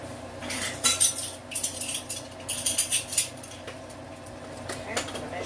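A metal measuring spoon clinks and scrapes against a container while flour is measured for a chicken and rice casserole, in several close bursts of bright rattling with short pauses between them.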